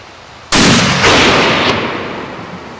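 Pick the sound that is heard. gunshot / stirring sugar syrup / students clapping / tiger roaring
gunshot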